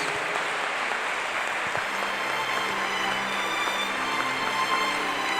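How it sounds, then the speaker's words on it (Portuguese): Church congregation applauding together, a steady dense wash of clapping that holds at an even level for several seconds without talk. "Vamos dar uma talentosa salva de palmas para o Espírito"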